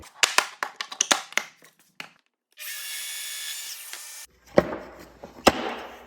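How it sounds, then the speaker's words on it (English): A power drill whirs into a wooden board for about two seconds, between sharp knocks and clatter of handling tools, with rustling and crunching afterward. "So we're going to drill one hole into the center of this board"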